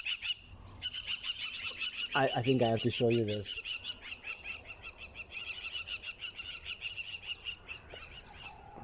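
Birds and dogs chasing each other in a yard, with a burst of loud, yelping bark-like calls midway over a steady bed of chirping birdsong, and a person talking briefly at the start.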